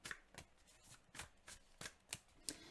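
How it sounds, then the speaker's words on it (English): Tarot cards being shuffled by hand, eight quick crisp riffling bursts in a steady rhythm, close but quiet, with no talking. "let's give it a few more shuffles and see what else do we have for Scorpio in May"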